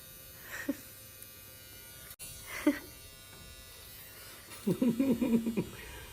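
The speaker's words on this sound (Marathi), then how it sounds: "नोज आणि इयर ट्रिमर लावलंय मी त्याला" A small electric nose and ear trimmer buzzes faintly in the background while a person talks in short bursts, the hum continuing steadily underneath the voice.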